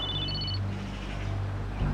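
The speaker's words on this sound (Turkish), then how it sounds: "Sefer telefonu çalıyor." A mobile phone rings with a short electronic tone, a brief high melody in the opening half-second over a steady low hum in an indoor scene.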